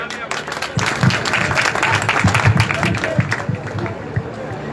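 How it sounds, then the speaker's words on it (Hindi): A crowd at a political rally claps and cheers as someone is called to the stage, loud mixed applause with background chatter and crowd noise running throughout. "तालियां बजाइए"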